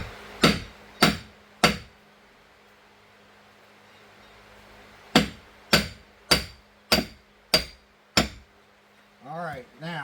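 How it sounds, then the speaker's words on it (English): A hammer drives a gimbal bearing alignment shaft into the coupler of a Mercruiser Alpha One/Bravo sterndrive with sharp metallic blows. Three strikes come first, then a pause, then a faster run of six close, loud hits. "I had to hammer it in, but it's in the coupler now"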